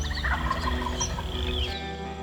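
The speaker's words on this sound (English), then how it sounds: "when you hear them gobbling like this off the roost" A wild turkey gobbles off its roost on a Michigan hunt, one rolling, warbling gobble carrying clearly through the open woods with no talk over it.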